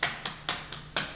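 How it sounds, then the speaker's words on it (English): Tap shoes on a wooden floor beating a two-sounded walking step, paired sharp clicks in an even repeating rhythm, close and clear with no voices. "Here's the two sound again."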